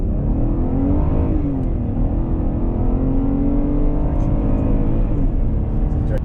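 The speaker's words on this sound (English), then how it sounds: "The acceleration of the Acadia is very good" A 2019 GMC Acadia SLT family SUV accelerating, its engine note rising steadily and loud throughout, heard from inside the cabin with no talk over it.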